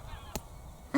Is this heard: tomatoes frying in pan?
no